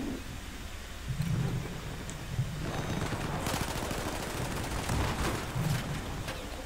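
Gunfire in the video game Battlefield 4 on the Gulf of Oman map, with distant rumbling shots and bursts over a constant battlefield roar, moderately quiet and continuous.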